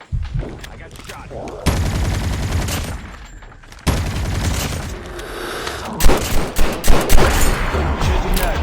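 Gunfire in an endless zombie mode video game comes in bursts of rapid automatic shots and heavy blasts, loud and close, with a string of punchy single shots near the end.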